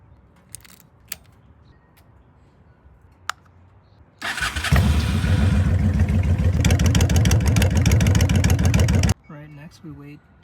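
A Honda Shadow 750 motorcycle engine cranks and catches after a few faint clicks, then settles into a loud, steady idle for several seconds before cutting off, with a voice speaking afterward.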